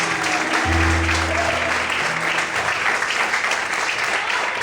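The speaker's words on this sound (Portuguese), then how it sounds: "Mais forte as palmas" Church congregation clapping loudly in worship, a dense continuous wash of many hands with a low sustained organ-like tone underneath early on, steady from start to finish.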